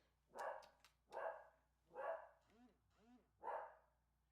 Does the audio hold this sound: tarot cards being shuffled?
no